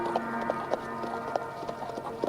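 Hooves clip-clop steadily on a hard surface as a rider leaves on horseback, a sound effect in a radio drama, with a regular trotting rhythm at moderate volume.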